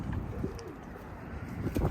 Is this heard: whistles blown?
no